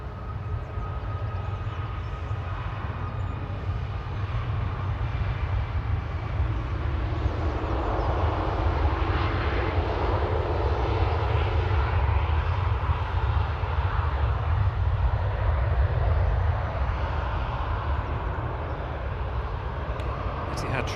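Aircraft engines roar steadily at Manchester Airport, a broad continuous drone that holds at the same level for about twenty seconds, with a faint voice now and then beneath the noise.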